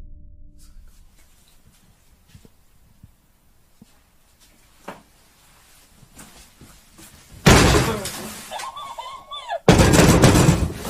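Powerful knocks on a door inside a supposedly haunted house: faint scattered thumps at first, then two loud, heavy booming bursts near the end, with a strange warbling cry rising and falling in between.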